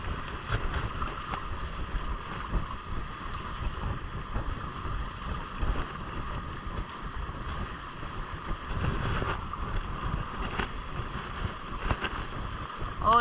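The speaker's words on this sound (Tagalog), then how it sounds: "Oh, lumakas ka pa hangin." Steady wind roars across the microphone aboard a Hobie Cat catamaran during a sea trial on open water, a constant rushing buffet with low rumbling gusts and no talk.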